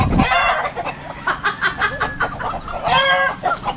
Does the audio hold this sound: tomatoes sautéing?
no